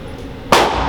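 A single sharp report from a Glock pistol at a shooting range cracks out loud and close halfway through, ringing briefly after a quiet start.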